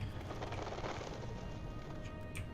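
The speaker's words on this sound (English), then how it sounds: "Noises of birds, anyway." Birds chirp and coo in the ambient soundscape of the video game Amnesia, faint calls over a steady low background hum.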